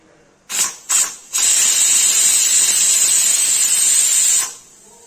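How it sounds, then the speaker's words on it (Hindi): Two short steam bursts, then a loud, sustained high-pitched whistle from a pressure cooker cooking liver, hissing close by for about three seconds before cutting off. "देखिए आने वाली है सीटी।"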